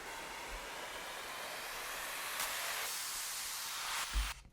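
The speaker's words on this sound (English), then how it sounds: "And then I added some sweeps up and some risers." Upward noise sweeps and risers for an EDM remake, a dense static-like wash building in brightness over several seconds, with short bursts layered in before an abrupt cut and a soft low thump.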